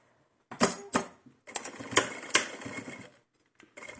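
A sewing machine stitches the side seams of a small Blythe doll dress, running in several short bursts with brief pauses between them, close and moderately loud.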